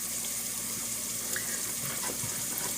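Tap water runs steadily into a basin or dish for soaking rice paper while making banana blossom sandwich wraps, a continuous close splashing stream with no talking.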